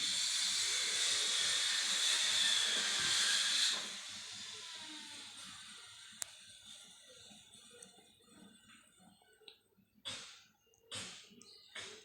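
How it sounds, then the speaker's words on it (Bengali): A steady loud sizzle like fish frying in hot oil fills the first few seconds, then fades into quieter crackles and scattered clicks. "মাছগুলো এপিটে ভাজা হয়ে গেছে আমি মাছগুলোকে ওপিট একটু উল্টে দিলাম"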